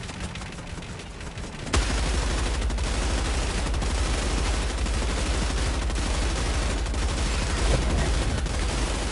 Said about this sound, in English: I'm gonna go kill this tank with my HMG, because screw him.